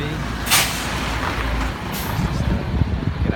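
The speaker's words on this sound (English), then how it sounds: "Let's just get out of the way of this truck." Truck at a mall construction site releasing sharp hisses of its air brakes, two bursts close by amid rumbling engine noise.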